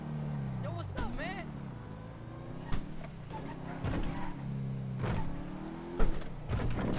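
A car driving in the GTA 5 video game, heard as a steady engine drone with rising and falling revs and gear shifts. A voice talks over it at moderate volume.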